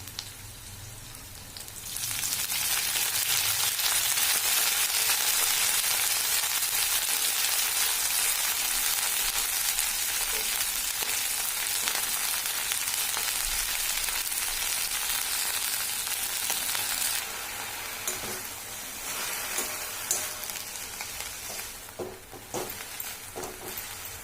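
Chickpea greens hitting hot oil with fried chili and garlic burst into a loud, steady sizzle after a brief quiet start, then ease into softer crackling with occasional stirring clatter toward the end.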